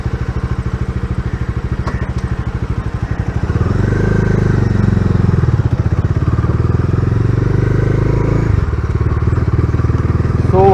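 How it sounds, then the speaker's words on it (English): Bajaj Dominar 250 motorcycle with a loud exhaust, a close, throbbing engine note that idles briefly, then swells into a fuller, louder rumble as the bike pulls away and keeps riding steadily. "A very loud exhaust"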